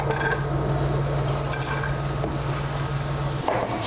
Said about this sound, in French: On va faire revenir nos oignons avec de l'huile.